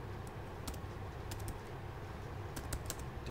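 Keys clatter in quick irregular bursts as a search query is typed on a computer keyboard, close and fairly quiet over a steady low room hum, with no voices.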